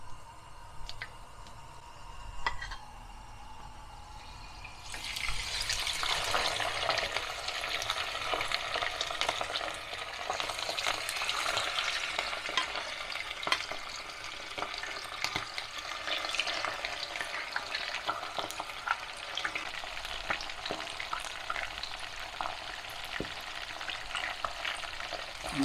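Onion pieces dropped into hot oil burst into a loud, crackling sizzle after a few quiet seconds, then keep frying steadily with fine popping and spitting close by.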